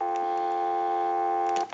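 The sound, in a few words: telephone dial tone through a Western Electric 302 test amplifier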